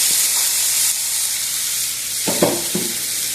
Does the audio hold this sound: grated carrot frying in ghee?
yes